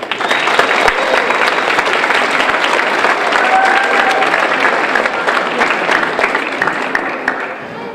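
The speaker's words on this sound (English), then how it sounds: "So if you could give a round of applause to Dr. Novotny and to Dodi Day." Audience applause fills a chemistry magic show at Adams State, a loud, dense, steady round of clapping from a crowd that holds evenly for the full stretch before easing slightly at the end.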